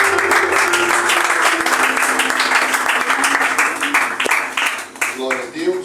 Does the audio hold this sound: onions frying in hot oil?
no